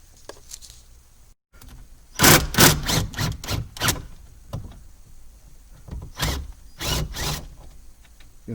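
A 10 millimeter bolt being removed inside a Honda HR-V or Fit, close ratchet clicks in quick bursts of sharp metallic ticks with short pauses between runs, loud and alone with no talking.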